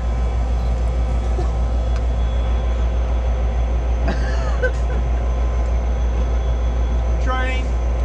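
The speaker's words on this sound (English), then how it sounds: "Train." A train rumbles past as a steady, loud, continuous roar with faint squeals and clanks on top, heard outdoors at a cookout, with brief voices in the background.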